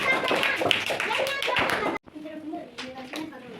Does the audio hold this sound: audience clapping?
yes